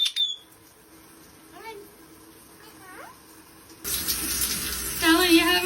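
Tap water sprays in a steady hiss to shower a pet parrot, starting in the second half after a quiet stretch with faint chirps and a soft voice, and growing louder toward the end.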